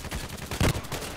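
A single gunshot rings out in the online shooter Contract Wars on the Old Sawmill map, a short sharp report over faint background game sound.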